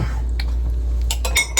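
A metal spoon clinks against dishes in a home kitchen, a few bright taps that cluster toward the end over a steady low hum, with no talk.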